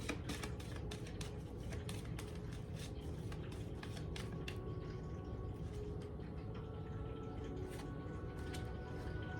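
Tarot cards are shuffled by hand, a continuous close papery riffling and flicking with quick sharp snaps, soft and steady throughout.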